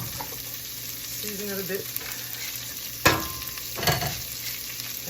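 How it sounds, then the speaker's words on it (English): Rough chopped cauliflower sizzling in a pot while being stirred, a steady close frying hiss with a couple of scraping stir strokes, under a brief spoken remark. "And rough chopped cauliflower. And stir it around,"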